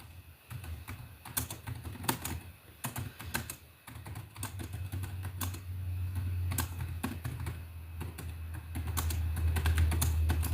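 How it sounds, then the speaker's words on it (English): Someone types on a computer keyboard in a quiet room, a quick irregular run of soft key clicks against a low steady hum. "Do you hear me typing away?"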